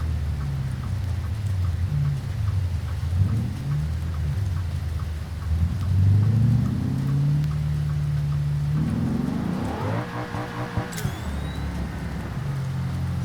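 Steady heavy rain pours across a racing game scene in BeamNG, a dense continuous hiss with low rumbling and a car engine droning beneath, changing tone near the end.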